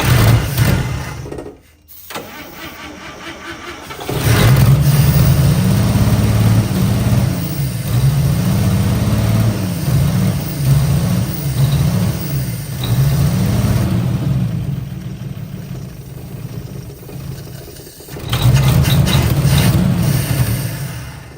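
A 1955 Chevy engine, parked for 40 years, cranks over and over in a steady pulsing rhythm without catching, loud and close, with a short break before it cranks again.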